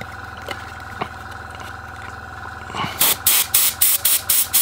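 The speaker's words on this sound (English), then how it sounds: "be very careful with how we actually use the airbrush" An airbrush sprays paint onto a Slaanesh Daemonette miniature in short, repeated hissing bursts, about six quick pulses near the end, following a quieter stretch with a low steady hum from the compressor.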